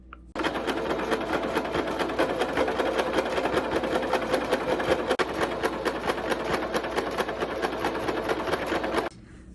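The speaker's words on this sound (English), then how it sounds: "basically faux serge it by doing the zigzag stitch, and then that's going to close and make our tube" A sewing machine runs a zigzag stitch across crochet fabric to close it into a tube, a steady close-up mechanical whir with rapid stitch ticking that holds for about nine seconds, then stops abruptly.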